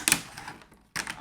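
A plastic croissant container is cut in two, giving crisp snipping and crackling bursts, a pause, then another burst, with a person talking in French at the same time.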